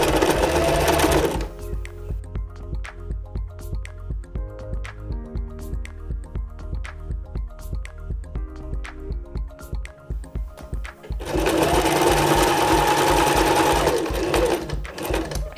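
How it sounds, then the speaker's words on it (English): A sewing machine stitches stretch fabric for a buff scarf, running loud and fast at the start and again near the end, with a slower run of evenly spaced stitches in between. Nobody speaks. "So make sure you back stitch and then stretch the fabric as you go."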